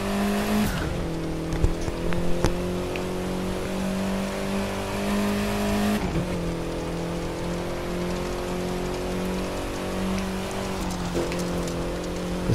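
A MINI Cooper S Countryman drives through the Grand Canyon in The Crew 2, a steady engine drone with occasional gear shifts and a rushing, rain-like road noise, loud and continuous without speech.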